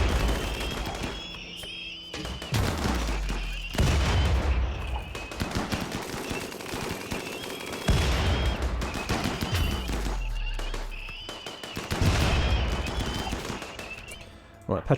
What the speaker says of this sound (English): Petra can stop throwing grenades